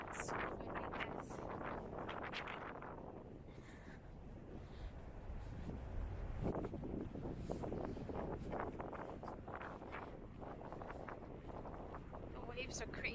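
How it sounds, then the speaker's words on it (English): Strong wind buffets the microphone along a cold beach boardwalk with crashing waves, a loud continuous roar with gusty swells throughout, with no speech over it. "So windy, guys."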